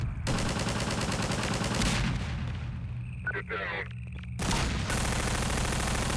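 Grenade explosions in Half-Life 2 come as loud, rattling bursts of blasts and gunfire-like cracks, then quieten during a brief lull before another heavy barrage erupts near the end.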